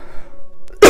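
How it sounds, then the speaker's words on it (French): A single sharp cough bursts out close to the microphone at the very end, after a near-silent stretch. "je sens que je vais tousser"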